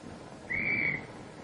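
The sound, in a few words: aircraft carrier deck handler's stop whistle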